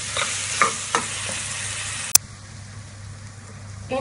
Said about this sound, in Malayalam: ഇനി നന്നായി ഇളക്കി കൊടുക്കാം.